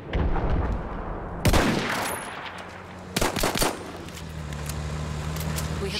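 Gunfire from a weapon in Battlefield 1, with two sharp bursts of shots cutting through a steady background rumble of battle noise.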